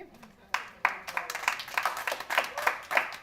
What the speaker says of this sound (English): Would I ask that you hold the applause